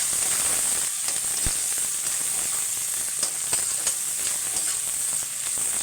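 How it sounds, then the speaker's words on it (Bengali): Steady loud sizzle of chicken frying with sugar and salt in a hot pan, dense hiss with scattered crackling pops throughout, close and continuous with no voices. "এই যে একটু মিষ্টি আর অল্প লবণ দিয়ে আমি একটু নেড়ে চেড়ে"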